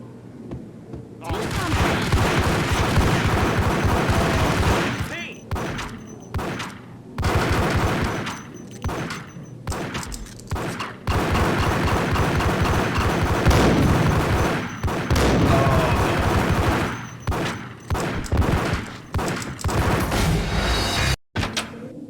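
Gunfire from the video game Max Payne, with repeated bursts of loud, close shots and rapid fusillades separated by brief pauses, the firing dense and sustained across most of the stretch, ending in a sharp cutoff.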